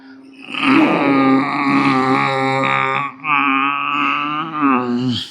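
A person makes a long, voiced throat sound during ujjayi yoga breathing, a loud, steady rasping drone meant to imitate a small child snoring, with one short break partway through.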